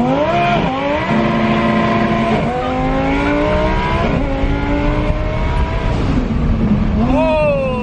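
A twin-turbocharged Lamborghini Huracan pulls hard through third gear from about 5,000 RPM, its loud engine note climbing steadily with several sharp shift breaks, heard from inside the car over road noise.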